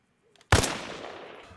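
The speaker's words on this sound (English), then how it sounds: "So first test, 100 meters, regular ammo," A single sharp SVD Dragunov sniper rifle shot fires in Arma Reforger at a 100-meter range, loud and sudden, followed by a decaying echo tail.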